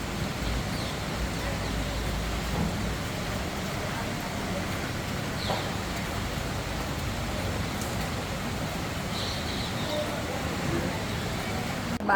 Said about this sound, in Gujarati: મજાનો વરસાદ ચાલુ થઈ ગયો છે બાપ